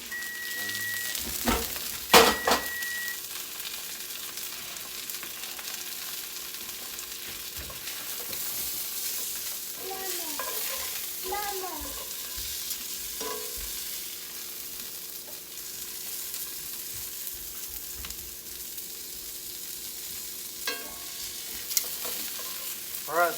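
Steaks frying in a pan give a continuous close hiss and sizzle, broken by a few sharp clatters of utensils early and later soft scraping and stirring, with no voices.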